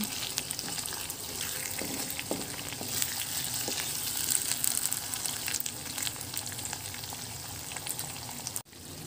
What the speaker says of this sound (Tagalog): Haluin natin ang ating pork binagoongan.